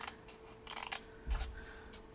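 Scissors snip tabs off paper notecards in a few quick, crisp cuts, with a soft thump partway through. Faint and close in a quiet room.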